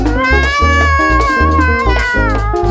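Repeated cat meows, long and bending in pitch, ride over a rhythmic backing track with a thumping bass pulse, all loud and close.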